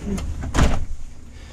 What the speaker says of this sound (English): It says power running boards are deployed as soon as you open the door.